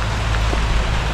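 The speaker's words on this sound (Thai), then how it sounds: "ฝนตกครับ" Steady rain pours down outdoors while someone is caught traveling in it, a dense, even broadband patter with no breaks, loud and close throughout, with no voices.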